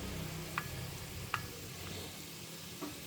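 Egg scramble (egg porutu) frying in a pan, with a soft, steady sizzle and a few light clicks of a utensil against the pan, faint and alone.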